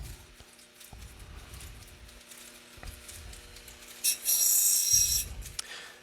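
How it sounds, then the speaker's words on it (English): Opal pressed against a finer shaping wheel: quiet, intermittent rasping bursts of stone grinding, each lasting about a second, separated by a near-silent motor hum, with a brighter hiss toward the end. "this one is just a finer shaping wheel, essentially"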